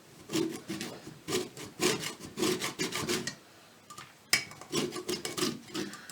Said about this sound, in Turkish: limonumuzu rendeledik